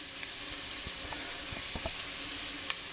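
Food frying in a pan until golden, a constant soft crackling sizzle with scattered small pops, fairly quiet and without talk.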